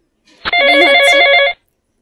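A telephone rings once on an outgoing call, a loud trilling electronic bell lasting about a second, with silence before and after.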